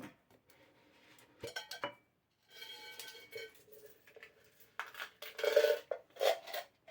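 A few metallic clinks and small clattering drops of coins falling into a money box, in short bursts separated by quiet pauses.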